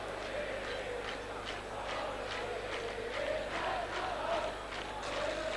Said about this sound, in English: Judging from the noise of the crowd, you'd think this match was taking place at Stamford Bridge